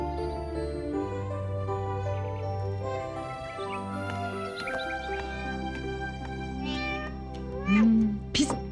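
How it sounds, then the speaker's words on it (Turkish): A cat gives a drawn-out meow near the end, loud and close, over a soft background of music and light household sounds at a set table. "Kov şu kediyi Bedri"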